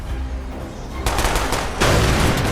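Call of Duty Black Ops gunfire, with dense machine-gun bursts over a rumbling battle background that grow louder in two sudden surges.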